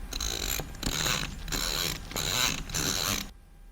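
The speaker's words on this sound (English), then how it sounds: "The purpose is to give a click sound whenever there is an adjustment on the grind settings dial." A BG T64 coffee grinder's grind settings dial clicking as it is adjusted, a steady run of close, loud mechanical ratcheting in several bursts over about three seconds, then stopping.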